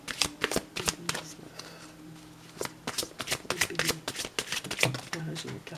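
Tarot cards are shuffled by hand until one drops out. Rapid papery riffles and flicks come in quick close bursts, with a voice speaking softly at times underneath.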